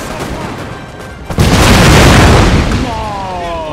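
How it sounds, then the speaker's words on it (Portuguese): A grenade blows up in the Napoleonic-era strategy game Total War: Napoleon, a loud sudden boom that rumbles on for about two seconds before fading, with faint background battle noise. "Ah, os caras jogaram granada aqui."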